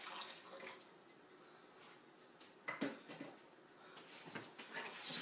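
Water runs and splashes steadily into a blender, about half a cup, with a few brief clinks and knocks from handling partway through.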